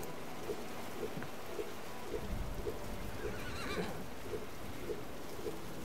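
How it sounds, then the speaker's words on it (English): Horse whinnying after being called in a Wild West video game, a repeated neigh with a steady rhythmic pulse over a constant rain-like hiss, fairly faint and alone with no talk. "Alright, I'm calling in my horse."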